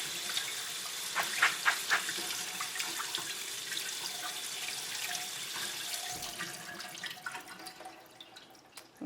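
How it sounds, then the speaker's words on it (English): Tap water runs and splashes steadily over soaked chickpeas being rinsed in a sink, with small drips and sloshing as the beans are stirred, fading toward the end. "And rinse them really good."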